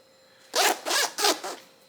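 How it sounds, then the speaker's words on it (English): Zippers on a backpack pulled open and closed in four quick, close strokes, each a loud rasping burst, with no talking. "as far as the zippers go, let's see if they're"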